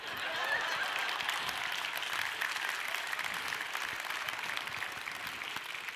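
A large convention audience applauds steadily, a bright, even roar of many hands clapping at once that holds for several seconds and softens slightly toward the end.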